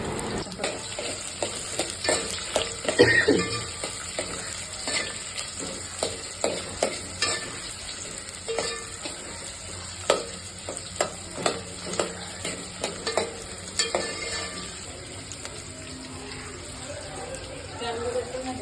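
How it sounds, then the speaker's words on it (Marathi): Onion and whole spices fry in oil for chicken biryani, keeping up a steady sizzle broken by repeated scrapes and clinks of a spoon stirring the pan, with someone talking over the cooking. "तेल घातलं आहे, त्याच्यात खडे मसाले घातला आणि कांदा घालून छान परतून घ्यायचा आहे"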